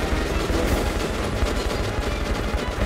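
Rapid, continuous minigun fire in Metro Last Light Redux, a dense unbroken roar of automatic shots that stays loud and steady for the whole stretch with no talking over it.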